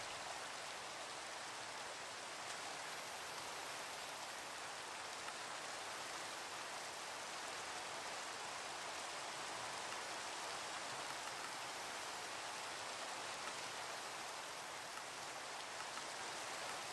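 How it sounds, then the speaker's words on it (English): Steady Minecraft rain hisses evenly and softly for the whole stretch, a constant broadband wash of drops with no voices over it. "Hey, it's raining again."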